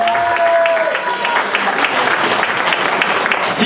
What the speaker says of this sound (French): Allez, applaudit Sylvie